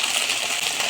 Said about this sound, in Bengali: এই যে থালা দিয়ে ঢেকে দিলাম